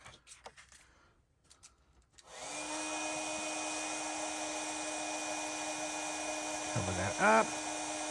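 Heat gun setting white embossing powder on a stamped holiday card, a steady loud blowing whine that starts after a couple of seconds and runs on, with a brief voice near the end.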